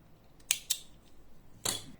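Scissors cutting crochet yarn from a handmade button, three crisp close snips with short gaps between them.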